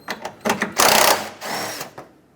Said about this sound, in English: I'm gonna have to remove the grill 10mm bolt over here